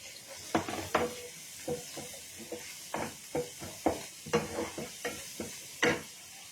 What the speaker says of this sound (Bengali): আমি গাজরটাকে একটু হালকা ফ্রাই করে নিলাম।